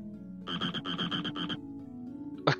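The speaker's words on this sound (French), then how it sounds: "on est sur la fanfare du crapaud" A toad croaks in a video game, a loud rhythmic series of about six pulsing croaks played as a short fanfare, followed by a brief bright chime at the end.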